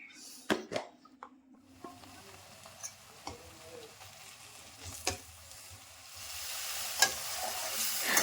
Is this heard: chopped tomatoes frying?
yes